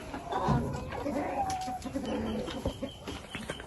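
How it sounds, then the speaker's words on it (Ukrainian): Duckling peeping and chirping calls come through at close range over rustling and background noise on a farm, a few short cries in quick succession. "там десь каченя кричить"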